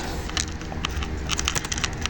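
Quick, uneven keystrokes clatter on a computer keyboard, a run of light clicks typed in bursts with short pauses, close and moderately loud.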